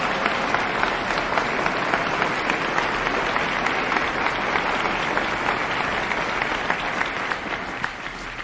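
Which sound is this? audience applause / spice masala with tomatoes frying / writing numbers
audience applause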